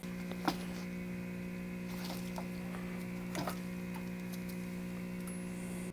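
A worn bearing in a milling machine runs with a steady low electrical hum and faint ticking and scraping flecks, quiet and continuous, with no talking.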